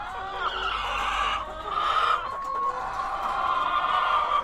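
Several chickens cluck and squawk close by in overlapping, drawn-out calls, fairly loud, with no talking.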